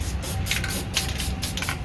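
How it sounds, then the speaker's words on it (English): Spray paint misted lightly onto vintage brass bells for Christmas decor, a steady close hissing spray in short overlapping bursts with no speech. "And I'm lightly misting so there are no drips."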